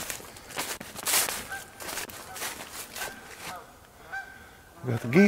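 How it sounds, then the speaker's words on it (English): Geese honk overhead as they fly past in springtime, a string of loud nasal calls at mid distance with scattered footsteps and some rustling below. "Got the geese flying over."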